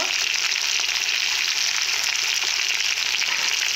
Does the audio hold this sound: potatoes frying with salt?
yes